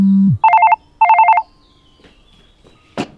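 A phone notification sound from a device treated as a strange object in a drama: a short low tone, then two loud bursts of rapid electronic trilling beeps, followed by a faint click and a brief sharp noise.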